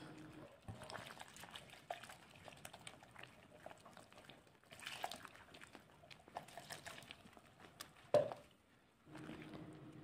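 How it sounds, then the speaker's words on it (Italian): Water trickles a little at a time into a pizza al taglio dough of yeast and honey or sugar, with quiet, intermittent pouring and mixing splashes and one sharper splash near the end. "mescolate aggiungendo l'acqua poca alla volta"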